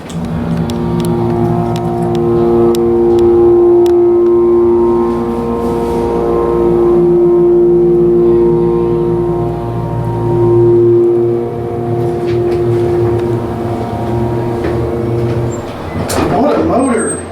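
A mall elevator's motor hums loudly and steadily with a strong drone, briefly swelling and easing, until a clatter near the end; a voice comes in faintly over it.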